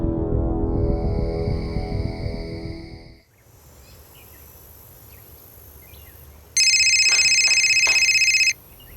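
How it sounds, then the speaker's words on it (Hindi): An electronic telephone rings in loud, steady tones for about two seconds near the end, after a stretch of low ambient noise with faint birds and insects; no one speaks. "आपका फोन बज रहा है"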